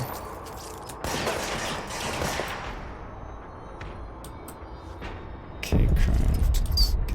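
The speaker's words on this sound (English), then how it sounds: "Okay, that one's shooting at me." Enemy gunfire in the video game Control, a cluster of sharp bursts and clattering shots at the start, then quieter, with a heavier, louder burst of fire near the end.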